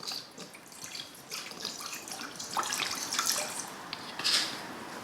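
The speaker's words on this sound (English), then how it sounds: "I've got here some rice wine vinegar. We're going to put exactly 100 mils." Rice wine vinegar is poured to make a brine, a close trickling, splashing stream of liquid with small bright drips, swelling in the second half.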